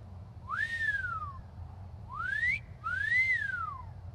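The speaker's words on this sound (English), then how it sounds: "You mean I would finally be able to whistle for my horse?" Someone whistles three times in the Skyrim Dawnguard video game, each note swooping up and then falling. The whistles are clear and fairly close over a low background hum.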